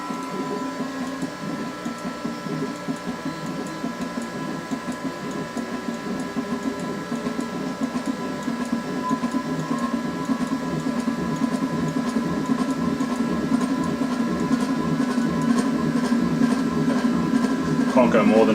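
Stepper motors drive a machine axis with a steady, buzzing whine and rapid pulsing that rises gradually in pitch and loudness as the speed is cranked up over about eighteen seconds.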